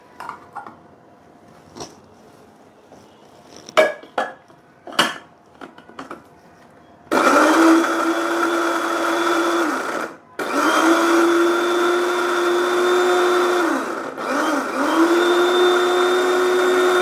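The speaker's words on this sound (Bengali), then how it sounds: "এটার মধ্যে কাজু বাদামটা আবার ব্লেন্ড করছি।" An electric kitchen blender grinds cashew nuts with yogurt, a loud steady whirring roar that shifts in pitch and stops briefly twice, after a few seconds of clinks and knocks from dishes and utensils.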